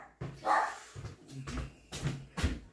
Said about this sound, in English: I'm just going to have to go and see what my dogs are yarking at because they're doing me head in